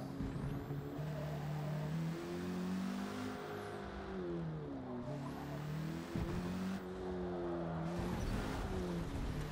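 A Porsche race car in the Forza Motorsport video game revs hard through gear changes, its engine note rising and dropping in repeated sweeps, with tyre skidding mixed into the close, steady engine roar.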